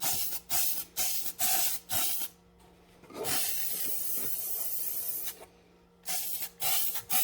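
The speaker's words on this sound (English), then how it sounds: "it really makes my garage smell like spray paint" Spray paint hisses onto glass jars in a garage. Several short bursts come in quick succession, then one long steady spray, then more short bursts, each close and loud.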